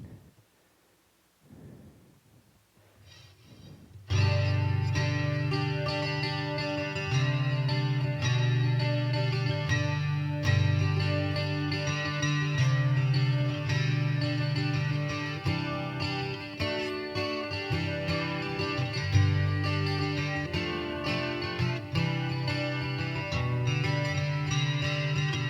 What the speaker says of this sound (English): So let's add in a little bit of chorus to that.